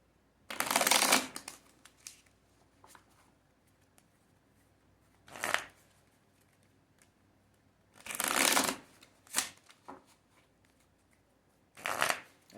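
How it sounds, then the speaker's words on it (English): Love Oracle cards shuffled in short riffling bursts, four or five separate rustling flurries with quiet pauses between, close and crisp with no talking. "so I don't have to do a long shuffle"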